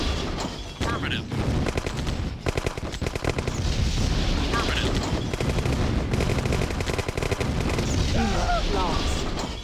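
Friendly gunfire rattles in the Command & Conquer video game: dense, continuous bursts of machine-gun shots with booms mixed in and short unit voice lines over the fire.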